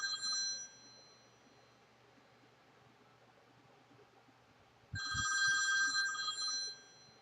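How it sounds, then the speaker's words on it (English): A phone ringing sound effect gives two bursts of bright electronic trilling, a short one at the start and a longer louder one after a quiet pause, over faint background hiss. "Then all of a sudden, I get my phone rings."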